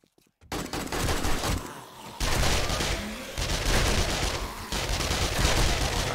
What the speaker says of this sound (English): Shooting nothing but air. First 10 bullets are nothing but air.